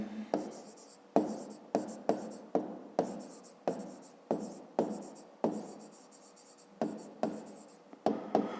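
Numbers being written by hand during a fifth-grade math lesson: a steady series of distinct scratchy strokes and taps, about two per second, close and clear with no voices.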